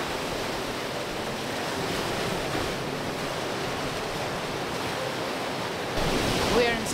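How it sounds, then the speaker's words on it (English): Rough autumn sea surges and breaks at Sozopol in a constant loud roar of surf, mixed with wind buffeting the microphone and rising briefly near the end. "As you may see, the sea is very rough."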